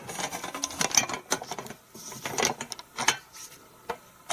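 An AMTOVL hand riveting tool threads onto a rivet nut, producing close, rapid ratcheting clicks and small metallic taps in irregular bursts with brief pauses.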